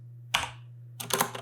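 A computer keyboard is typed on in two short bursts of clicking, a single quick flurry and then a denser run of keystrokes a moment later, close and clear over a steady low hum.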